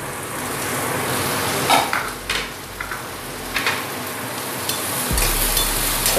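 Chopped onion and green chilies fry in a pan with cumin and coriander, a steady close sizzle with occasional clinks and scrapes of a spoon against the pan, no talking.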